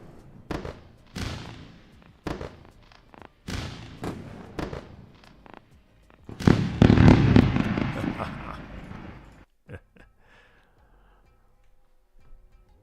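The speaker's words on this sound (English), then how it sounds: "Let's go for another round of fireworks." Rapid firework bangs and crackles added as a sound effect on a live futures trading stream, starting as sharp separated pops and building into a dense, loud crackling burst before cutting off into near silence.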